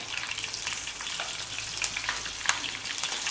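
Green chillies frying in oil for tomato chutney, a close, continuous crackling sizzle with scattered sharp pops, loud and steady throughout with no voices.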